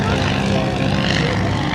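A 1911 Ely-Curtiss Pusher replica biplane flying past at a naval air expo, its propeller engine droning steadily as a broad, constant buzz throughout.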